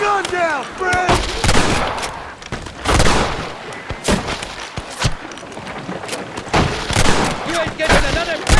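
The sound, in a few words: gunfire in shootout, from video game Red Dead Redemption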